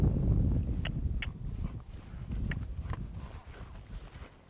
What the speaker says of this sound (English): Lope off nice and smooth